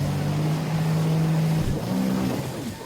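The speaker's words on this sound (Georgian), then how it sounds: "ეხლა ვცადოთ წყლის სკუტერი." A jet ski (water scooter) runs on the sea at Batumi, Adjara, with a steady, loud engine drone that shifts pitch partway through, over continuous wind and water noise.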